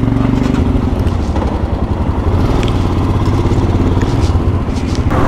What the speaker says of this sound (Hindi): 80-90 से ऊपर बाइक नहीं चल रही है हमारी।